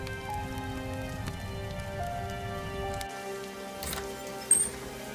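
Heavy night rain falls steadily on a surface, a dense, continuous patter heard close up that thins a little partway through. A single sharp knock stands out near the end.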